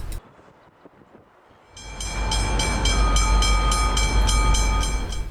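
Three G-Class diesel locomotives depart a goods yard with a 56-wagon intermodal freight train, their engines swelling from a quiet idle into a loud, sustained roar with bright tonal whine, heard close at a level crossing.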